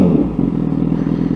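A Honda CBR1000RR Fireblade (2017) with a Graves aerospace titanium slip-on exhaust idles loudly and close, a rapid lumpy burble with a brief rev dip, heard alone.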